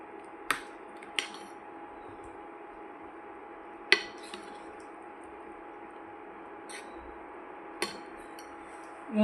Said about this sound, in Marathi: व हलक्या हाताने एकदा ढवळून घेऊ।